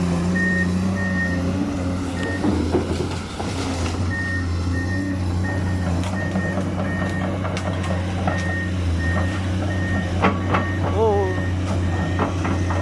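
A new Komatsu PC210MO excavator clearing forest land runs with a steady low engine drone and a repeating series of beeping alarm tones, while someone talks over it.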